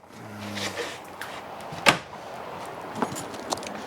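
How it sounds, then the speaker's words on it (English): A small drawer in a 2019 Heartland Bighorn 3270 RS fifth wheel trailer is opened and shut. One sharp close clack is followed by a couple of lighter clicks over quiet room tone, with no talk. "Special little drawer there in this location."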